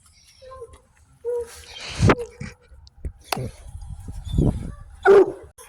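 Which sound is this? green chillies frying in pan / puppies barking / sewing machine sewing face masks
puppies barking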